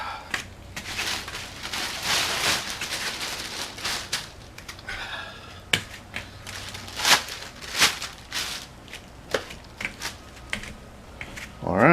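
A thin plastic emergency bag, resembling a giant garbage bag with one open side, is spread out, crinkling and rustling near the microphone with scattered taps and crackles, starting busy and thinning to intermittent handling noises.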